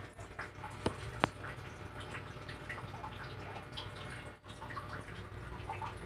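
Food is washed under a running tap, a steady splashing rush of water with a few sharper drips and knocks throughout.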